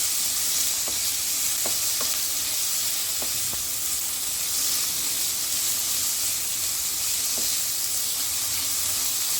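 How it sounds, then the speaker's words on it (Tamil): Steady sizzling of onions frying in a pan, with a few soft scrapes and stirs now and then, continuous and close. "வெங்காயம் கொஞ்சம் வதங்கணும்"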